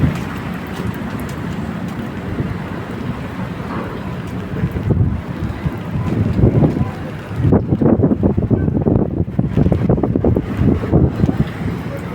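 Heavy rain pouring down hard on a flooded road, a loud dense roar with gusts of wind buffeting the microphone, intensifying toward the second half and never letting up.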